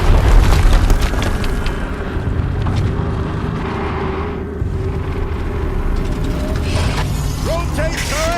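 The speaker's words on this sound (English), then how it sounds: "Another explosion." Explosion in the PS4 game Horizon Zero Dawn: a loud, sustained low rumble and blast that stays heavy through the stretch, with clanking mechanical noise and brief synthetic chirps near the end.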